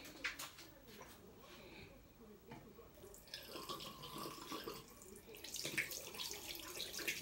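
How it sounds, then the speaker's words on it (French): Lukewarm water running from a tap for a facial rinse, a soft, fairly faint splashing and trickling that grows fuller and hissier in the second half, with small drips and splashes throughout. "Je vais rincer ceci à l'eau tiède."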